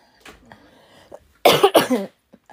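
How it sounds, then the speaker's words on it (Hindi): A burst of several harsh coughs in quick succession, close and loud, following a quiet stretch with faint background noise. "पता नहीं गले को क्या हुआ इतनी खांसी शुरू हो गई है"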